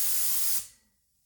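A spray gun run on regulated compressed air at about 3 psi sprays wheels in a garage, a close, steady hiss lasting about half a second that then tapers away into quiet.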